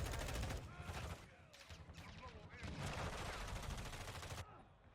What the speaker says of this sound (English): I don't know what she's shooting at over there